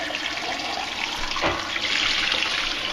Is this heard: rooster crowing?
no